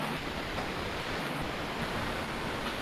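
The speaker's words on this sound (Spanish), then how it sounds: "está empezando a llover un poco más" Rain falls harder outdoors as a steady, dense hiss of even intensity throughout, distant and fairly faint, with no talk.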